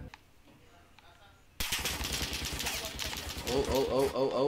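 Quiet game ambience with distant pops suddenly gives way to sustained, loud automatic gunfire in Warzone, rapid shots continuing to the end, with a brief exclamation from a player.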